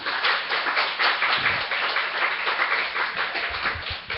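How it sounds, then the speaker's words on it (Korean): A church congregation at a Sunday service claps together in a brisk, even burst of applause that fills the room and holds steady for several seconds. "자, 미리 한번 우리 박수 한번 치십시다."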